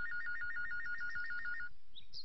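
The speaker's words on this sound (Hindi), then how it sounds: "लो फोन आ गया" A telephone ringtone trills in a steady repeating electronic pattern for nearly two seconds, fairly loud and close, then cuts off, followed by a brief higher tone; no one speaks over it.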